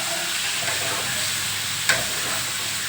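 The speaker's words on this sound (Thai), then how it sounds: "เราก็จะมาทอด ให้มันแข็งตัวสักหน่อยนึงแล้วก็มาผัดเนาะ" Soft tofu, a silken board-style block, fries in a pan of oil after fried garlic, giving a steady close sizzle with a brief clink of stirring near the middle and no talk.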